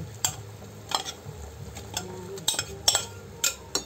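Corn kernels go into a pot of simmering chicken corn soup, heard as close stirring with sharp spoon clinks against the pot over a soft bubbling background.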